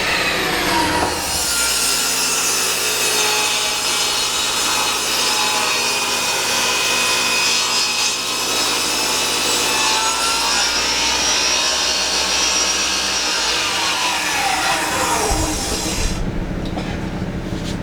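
A power saw rips through wood for a small bathroom rolling cart, a loud steady whining cut running nearly continuously, close by, before winding down near the end.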